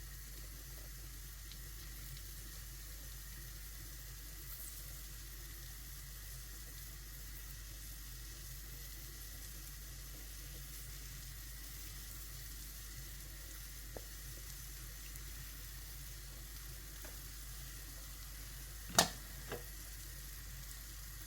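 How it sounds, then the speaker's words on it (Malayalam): Brinjal pieces sizzle faintly in melted butter in a pan, a low steady frying hiss with a couple of brief clinks near the end. "എന്നിട്ട് നമുക്ക് പതുക്കെ ഓരോ കത്തിരിക്ക കഷ്ണങ്ങൾ നമുക്കിതിലോട്ട് ഇട്ട് കൊടുക്കാം"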